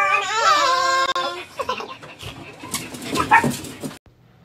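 Dogs whimper and whine in high, wavering cries, then snuffle and yelp in short bursts while tugging at a new snake toy from a box of treats and toys, heard close and loud with no talking.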